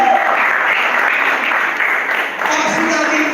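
A church congregation claps loudly during a Filipino preaching service, dense sustained applause filling the room with a brief dip before swelling again, with a voice speaking over it.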